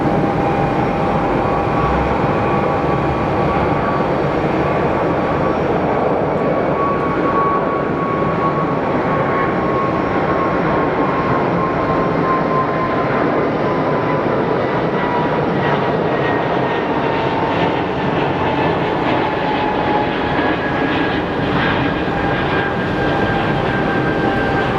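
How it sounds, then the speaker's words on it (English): An airliner departs from Geneva Airport with a steady, loud, broadband jet roar that holds for the whole stretch, with a slowly falling engine whine above it. "Here's our Wookiee on departure."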